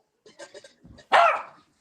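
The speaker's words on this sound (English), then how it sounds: "Dogs were barking, kids screaming." A dog barks, a few short yips followed by one loud, close bark that fades out, with no other sound around it.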